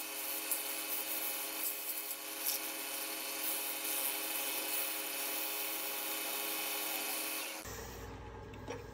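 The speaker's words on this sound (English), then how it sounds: "So let's drop that down and sand it." Sandpaper is held against a wooden snowman spinning on a lathe, giving a continuous rubbing hiss over the steady hum of the motor until the lathe winds down near the end.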